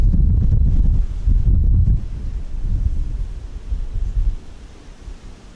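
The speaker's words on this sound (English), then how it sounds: "Wind. It's windy." Wind gusts buffet an outdoor microphone with heavy low rumble, loudest in the first two seconds, then easing into a steadier, fainter blustery roar.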